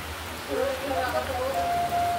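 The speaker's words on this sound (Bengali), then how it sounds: "দেখো বাইরে ঝমঝমিয়ে বৃষ্টি হচ্ছে, মুষলধারে হয়েছে" Heavy rain pouring down outside, a steady broadband hiss close by, with a faint tonal hum rising over it partway through.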